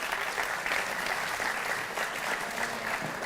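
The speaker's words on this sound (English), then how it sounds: "So he deserves a round of applause for that." An audience gives a rabbi steady applause at a community event, a dense even wash of many hands clapping throughout with no break.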